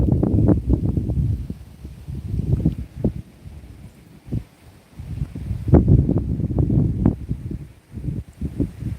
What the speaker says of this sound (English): So it's super windy and rainy here now.